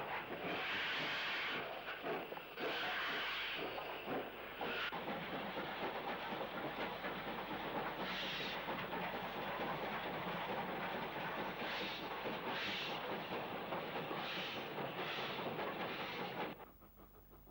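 A diesel multiple unit runs on the Great Central line, giving a continuous loud rumble and hiss with rhythmic clickety-clack from the wheels. The sound holds steady for about sixteen seconds, then drops away sharply.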